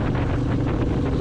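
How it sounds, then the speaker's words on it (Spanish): Steady, close, broadband wind roar buffets the microphone on a moving motorcycle during a group ride, with no distinct engine note standing out. "esta es una moto que es un poquito ruido"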